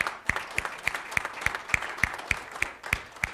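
A church congregation applauds in praise, a rhythmic clapping in even, steady beats roughly three per second, moderately loud and sustained without speech over it.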